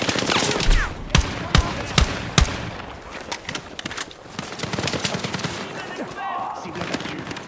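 Gunfire in the video game Battlefield 6: bursts of automatic weapon fire and several loud single shots crack over a dense battle din, with a voice speaking in the background.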